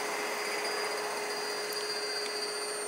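A small electric motor runs on 12 volts as part of a homemade inverter generator, giving a steady, quiet whine with a faint high hum that holds evenly throughout with no talk.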